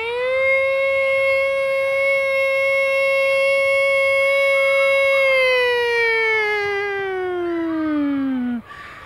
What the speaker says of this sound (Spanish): la sirena de este colegio es una sirena antiaérea